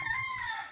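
A rooster crows briefly at moderate distance on a broiler poultry farm, a short drawn-out call with no talking.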